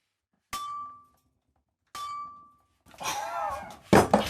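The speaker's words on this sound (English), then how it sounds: "So I battered it with a hammer." A hammer strikes a welded metal piece: two sharp ringing clanks with a short resonant tail, followed by a rougher scraping clatter and a final loud bang, close and without speech.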